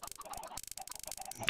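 Chickens cluck in short, overlapping clucks and squawks in a crowded video game farm pen, close and busy, with no voices over them.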